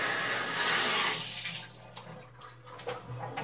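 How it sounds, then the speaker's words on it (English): Water runs from a bathtub tap into cups, starting as a loud, steady rush that fades into softer splashing and dripping pours over a low background hum. "So I'm getting water in the cups from out the bathtub."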